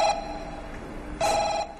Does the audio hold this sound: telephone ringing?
yes